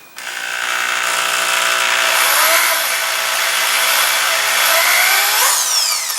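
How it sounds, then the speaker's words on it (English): A reamer cuts a crown into a gun barrel, giving a continuous loud whirring, grinding hiss for about six seconds, with a brief squeal as it comes off at the end. "I'll also put a little bit more on the cutting surfaces of the reamer."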